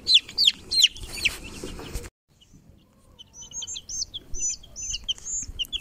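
Ten-day-old baby chicks on their first day outdoors on grass, chirping in a string of high, thin peeps, loud and close at first, then a short silence before softer, more distant chirps resume.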